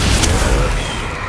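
A Bombarda or Confringo spell blast in Hogwarts Legacy lands as a short, deep boom with a low rumble that fades quickly, loud and close.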